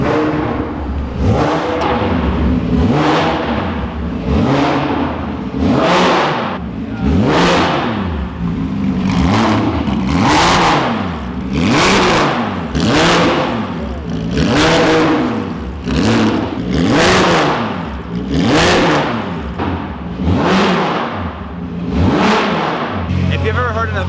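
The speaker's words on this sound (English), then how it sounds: "So there's the GT3 in there revving." A Porsche GT3 engine revs repeatedly inside a nearby garage, rising and falling in about a dozen loud rhythmic surges with harsh, raspy exhaust overtones and no pause between the runs.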